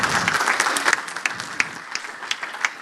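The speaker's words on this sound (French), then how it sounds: "Et je propose qu'on l'applaudisse." An audience at the end of a conference on global nuclear safety after Fukushima breaks into loud, close applause, a dense patter of clapping that thins out into scattered individual claps.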